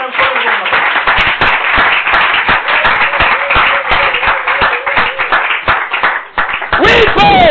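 A church congregation claps loudly and continuously in dense, rapid applause, with voices calling out underneath and a rising whistle-like cry near the end.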